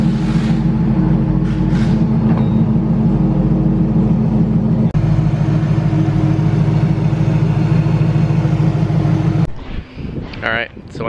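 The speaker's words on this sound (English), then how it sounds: "we got the Corvette on the dyno now" A supercharged C5 Corvette Z06 runs on a dyno, a loud sustained engine roar with a brief dip midway, then cuts off abruptly as a voice speaks briefly at the end.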